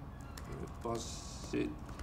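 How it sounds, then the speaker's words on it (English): Brief keystrokes on a computer keyboard during a conference talk on software code, a few quiet clicks with a short run of typing heard under light room noise and speech. "I hate typing that word."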